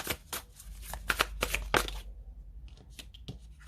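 Tarot cards being shuffled and drawn, a quick run of crisp riffling snaps up close, then a few softer slides and taps as cards are laid out, with no voices.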